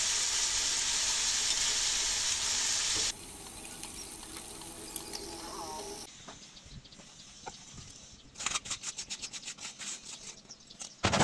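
A rui fish and baby potato curry is stirred in a pot, with a broad sizzling, scraping rush at first, then quieter rubbing and a run of soft rhythmic scrapes near the end.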